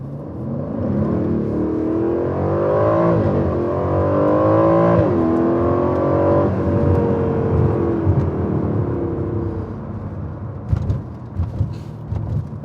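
Aston Martin V8 Vantage accelerating hard from a standstill, its V8 engine roaring loudly with rising pitch through several gear changes, then a pause and a few short mechanical knocks at the end.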